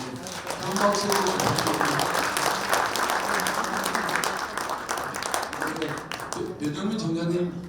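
Sustained applause from an audience at a school centennial ceremony during an album presentation, clapping throughout with talk over the start and end.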